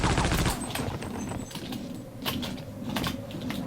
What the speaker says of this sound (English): you're gonna see why the machine gun is so useful now